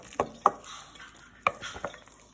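Churro batter is stirred in a bowl, with a few sharp clacks of a utensil against the side between soft, wet mixing sounds, close by and quiet.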